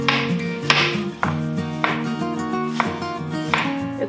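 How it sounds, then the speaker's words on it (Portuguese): A knife chops an onion finely on a board in steady, brisk strikes about every half second, close and clear, with a faint musical background underneath. "você vai picar essa cebola muito picadinha"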